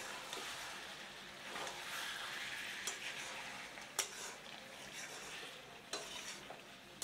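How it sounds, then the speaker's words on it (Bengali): Chicken stirred and fried over high heat in a kadai gives a faint, steady sizzle, with occasional sharp ticks and scrapes from the spoon against the pan. "মিনিট 10 এভাবে চড়া আঁচে নাড়াচাড়া করে ভেজে নেব।"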